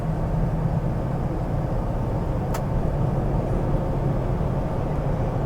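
Interior drone of a 2000 Ford Excursion XLT 2WD with a V10, cruising under light throttle: a steady, low engine and road rumble that holds constant throughout, with a brief faint tick near the middle.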